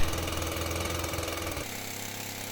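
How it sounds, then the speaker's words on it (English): A chainsaw mill, guided by a ladder rig on a scaffolding tower, runs at the start of a cut into a big log. Its engine drones steadily and loudly up close, then settles to a lower, rougher note partway through. "I like to start quite slowly, ease the chain in before opening the throttle fully."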